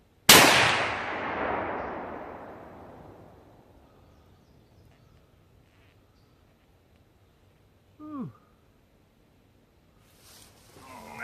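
A single sharp gunshot from a .450 Marlin Handi-Rifle cracks loudly up close and decays into a long rolling echo, followed later by a short metallic click and faint handling noise.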